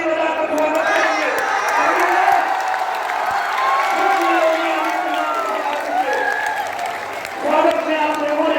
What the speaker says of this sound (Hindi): सभी लोग खड़े होकर के और पूज्य महाराज जी के लिए ताली बजाकर स्वागत करेंगे